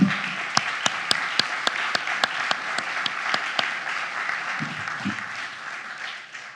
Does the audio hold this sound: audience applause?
yes